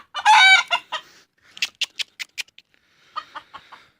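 A nearby rooster gives a short, loud crow, followed by a series of rhythmic clucks and quieter clucking toward the end.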